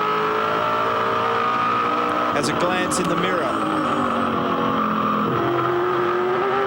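A V8 Supercars race car engine roars continuously at the Adelaide street circuit, rising in pitch and shifting up through second, third and fourth gears, loud and close, while someone talks over it.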